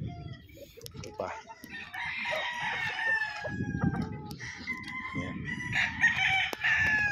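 A stag rooster crows repeatedly, loud and close, its drawn-out calls overlapping with clucking from other fowl, while someone speaks briefly in between.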